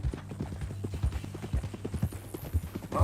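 Horse hooves clip-clop steadily in Red Dead Redemption 2, a close, rhythmic run of hoofbeats on the trail with no talk over them.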